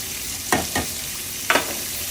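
Garlic and onions sautéing in butter in a pan, a soft steady sizzle broken by three quick scraping stirs of a utensil.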